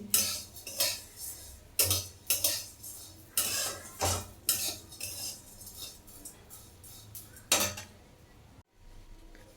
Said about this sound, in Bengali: সিমইটাকে লাল লাল করে চলো ভেজে নিয়ে আসবো